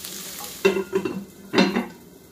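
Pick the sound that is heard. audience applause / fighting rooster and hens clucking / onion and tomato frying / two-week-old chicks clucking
onion and tomato frying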